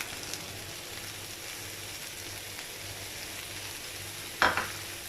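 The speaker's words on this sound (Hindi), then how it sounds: "इसे बहुत अच्छे से मिक्स कर लेंगे" Carrots and boiled peas are stirred in a pan over a soft, steady sizzle, with one sharp clink of a utensil against the pan near the end.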